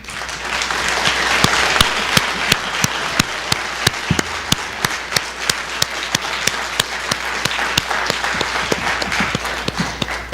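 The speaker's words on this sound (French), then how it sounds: "Je vous invite à les applaudir." Audience at a municipal election debate in Sorel-Tracy applauds steadily for about ten seconds, a dense wash of many hands with a few louder individual claps standing out sharply throughout, no talking over it.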